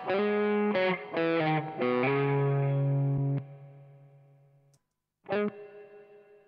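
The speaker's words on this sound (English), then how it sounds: "That's one of the more convincing spring reverbs that I've heard in an amp sim." Electric guitar chords with a crunchy Waves PRS Supermodel amp simulator tone are struck several times. Each is followed by a splashy spring reverb tail that lingers and fades before a final chord.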